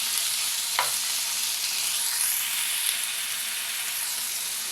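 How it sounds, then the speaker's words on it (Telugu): Cleaned prawns frying in a pan for a prawn and ridge gourd curry make a constant close sizzle with a brief stirring clink near the start, no talking. "ఇప్పుడు దీనిలో క్లీన్ చేసిన రొయ్యలు వేసేద్దాం. ఒక్క నిమిషం ఫ్రై చేసుకోవాలి."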